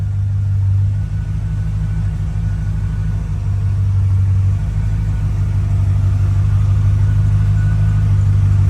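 A 1984 Chevrolet Corvette C4 engine running, a loud, steady low-pitched rumble with a constant idle drone close by and no talk over it.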